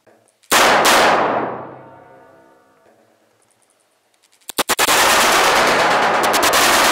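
A Bruni NEW380 9 mm R.K. five-shot blank revolver with a short barrel fires one loud, close crack that rings out in a long reverberant decay, then a rapid burst of shots that ends in sustained roaring noise.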